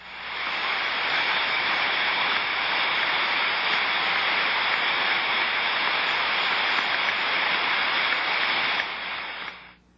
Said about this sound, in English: A large rushing sound will indicate failure of the main valve or air vent.